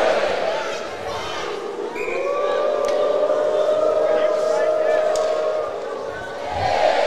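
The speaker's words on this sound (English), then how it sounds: "Had some disconcerted effort on the Hog call earlier, but it seems like the crowd's gotten their act together." Hockey crowd at an ACHA college game between Arkansas and Dallas Baptist chanting the Arkansas Razorbacks Hog call, a long sustained rising wail from many voices echoing through a large arena, swelling and holding steady.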